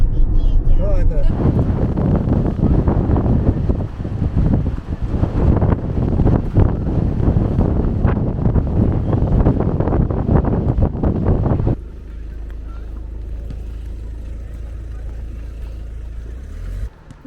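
Strong wind on the Mediterranean Sea buffets the microphone with a loud, steady roar and rumble, easing to a lower constant rush near the end.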